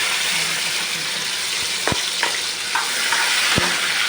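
Finely chopped tomato cooking in a pan with mustard seeds and cumin, a steady loud sizzle throughout with several sharp spoon taps and scrapes against the pan.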